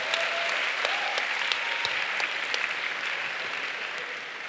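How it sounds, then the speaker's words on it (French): Sustained audience applause fills a film festival screening hall at the Cinemed premiere of L'Âme Idéale, a dense, steady wash of many hands clapping at even loudness throughout. "On peut l'applaudir."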